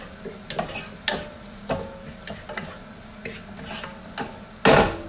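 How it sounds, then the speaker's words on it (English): Onions cook in a pan while a spoon or spatula scrapes and taps at it in irregular knocks over a soft sizzle, ending in a louder clatter. "All right, so onions are cooking nice"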